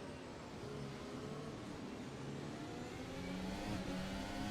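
VRC Formula Alpha race car engine in Assetto Corsa on the Nordschleife, a steady high-pitched whine with rising harmonic sweeps as it accelerates through the gears, continuous and fairly loud throughout with no talking.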